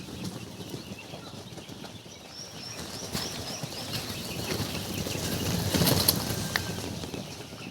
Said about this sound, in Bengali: আর এই যে আমার নতুন রানিং ডিমের পাখিগুলো।